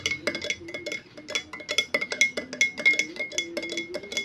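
Spoon clinking against a glass while stirring a homemade lime cough remedy drink, a quick run of bright repeated taps and rings with small pauses between strokes, close and clear with no talking.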